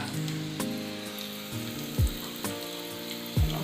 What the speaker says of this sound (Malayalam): ഉള്ളി ചെറുതാക്കി അരിഞ്ഞത് അതിലേക്ക് ഇട്ട് കൊടുക്കാം. എന്നിട്ട് അതൊന്ന് നന്നായി മൂക്കട്ടെ.